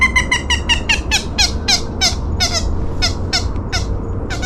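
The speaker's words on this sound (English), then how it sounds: "That bird's ticked at y'all." An agitated red-beaked bird near a lake gives a rapid series of sharp, harsh squawks and chattering calls in steady bursts, fairly close over low background rumble.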